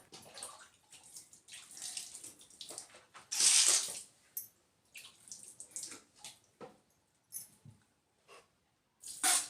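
Water splashes and trickles in bursts while a baby is bathed, with a louder pour partway through and brief splashes near the end, close by and separated by short quiet gaps.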